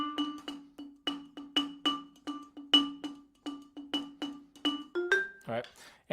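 Vibraphone played with muting: a quick, even run of short, dampened mallet notes, close and quiet, ending with a brief voice.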